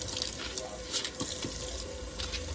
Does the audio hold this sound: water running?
yes